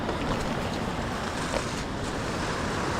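A river waterfall in Madikeri pours steadily, a dense continuous rushing roar close by with no voices.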